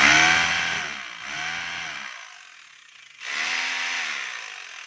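A Stanley SHR263 rotary hammer runs during a test with a rough mechanical whir. It winds down into a near-silent pause, then starts up again at full strength.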